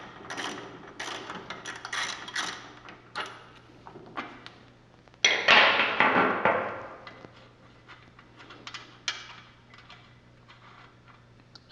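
Ratchet wrench loosening a nut on the rear shock of an 88-99 Chevy 1500, giving a run of close, quick clicking strokes with a louder burst of effort midway, then scattered softer clicks.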